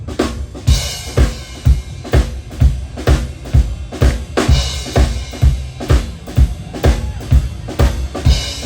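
A drummer plays a loud shuffle rhythm on a kit, copying a horse's gallop with repeating triplet strokes and accented hits in a steady loping pulse.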